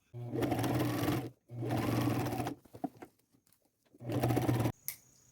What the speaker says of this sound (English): I'm asking an awful lot of my little brother machine, I'm afraid, because I still wanted to sew GIMP over that.